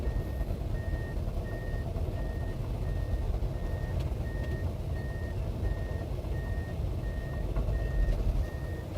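An excavator creeps forward with its travel alarm giving a steady, evenly spaced series of beeps over a low engine rumble, at moderate distance and with no talk.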